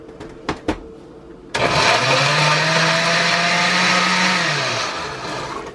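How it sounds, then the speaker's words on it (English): A few sharp knocks come first, then a kitchen blender roars to life puréeing a jalapeño, its motor holding a loud steady whine that sags slightly in pitch near the end. "I'm going to throw it in the blender and purify it"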